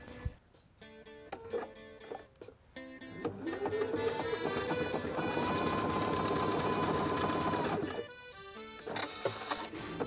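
A sewing machine runs a stretch stitch with a ballpoint needle, attaching binding to a knit camisole. It whirs steadily for several seconds in the middle under background music, then stops.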